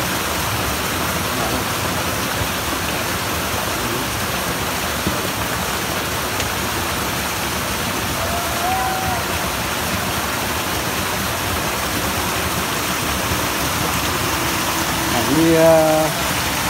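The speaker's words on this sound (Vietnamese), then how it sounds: "Đó, một cái khe nước." A forest stream flows in a steady, even rush of water, continuous and fairly close, with a brief voice near the end.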